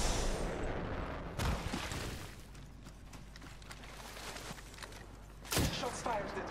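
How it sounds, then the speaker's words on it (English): Gunfire in the video game Apex Legends: bursts of shots and booming impacts crackle over a dense battle din, with heavy hits near the start and end of the passage. "Shots fired at me."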